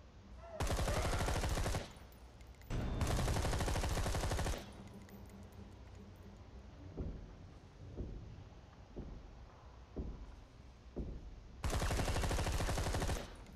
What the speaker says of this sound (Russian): Там пулемет, блядь.